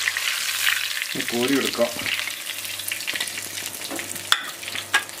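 Ice cream dropped into hot oil and deep-fried, a steady crackling sizzle running throughout with a few sharp spoon scrapes and clinks, while a voice speaks briefly over it.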